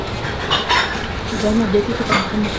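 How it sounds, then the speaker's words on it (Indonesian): Spicy noodles with thick sambal stirred in a bowl, with soft clinks of utensil against the bowl and wet stirring sounds, close and fairly loud, with a voice talking briefly over part of it. "Oke guys, ini kita aduk-aduk dulu."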